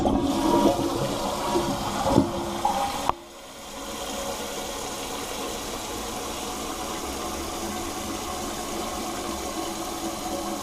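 A toilet with a newly repaired Fluidmaster 400A fill valve flushes in a loud close rush of water, then settles after about three seconds into a steady hiss as the tank refills.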